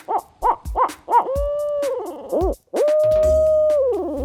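A hunter's voice imitates owl hooting, a series of short rhythmic hoots followed by longer drawn-out wavering calls, close and loud.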